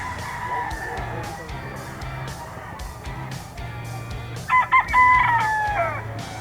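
Roosters at a chicken market in Grotto, Bulacan, crow over a busy background of clucking and low murmur, with one clear, drawn-out crow standing out near the end.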